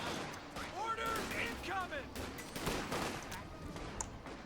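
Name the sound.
rifle gunfire, riflemen fighting Panzer Fusiliers, from a video game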